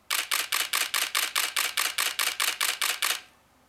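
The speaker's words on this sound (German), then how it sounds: "Da gehe ich hier auf Continuous High, stelle ich das mal ein" A Nikon D800 DSLR fires in continuous high burst mode, giving about fourteen sharp, evenly spaced shutter clacks in quick succession, loud and close, before it stops abruptly and falls quiet.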